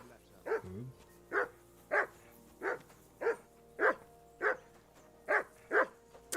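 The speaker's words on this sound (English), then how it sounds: "Call off that mutt of yours!" A dog in a video game barks about ten times in an even, loud series, each bark clear and close, with a short low whimper near the start.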